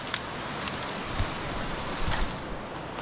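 Water rushes in a steady broadband hiss where two rivers branch at a secret lagoon in the forest, with a few faint chirps and ticks over the flow.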